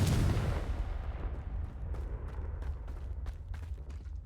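A Confringo spell explosion in the Hogwarts Legacy video game: one loud, close blast that fades into a rumbling tail, followed by faint crackles and scattered debris.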